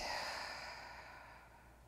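A slow, deep exhale during yoga breathing, a soft airy breath close to the microphone that gradually fades over about two seconds, with no talking.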